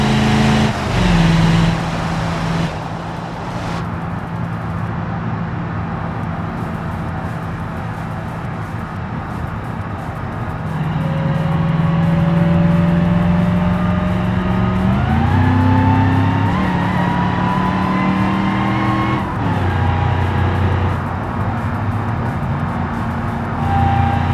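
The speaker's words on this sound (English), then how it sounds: "Look at that supercharger going now." A supercharged car engine revs in the BeamNG driving game, a loud sustained drone with rising pitch sweeps and supercharger whine, climbing in steps as it accelerates, with no voices.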